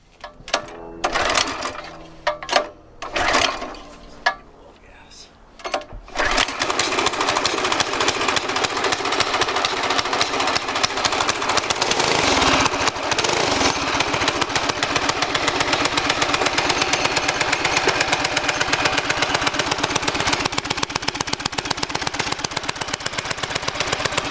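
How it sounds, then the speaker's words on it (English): A small go-kart engine, unstarted for five years, is pulled over a few times, then catches and runs steadily at a loud, buzzy idle, close up and continuous with no voices over it. "5 years since that engine has been started. It started right up."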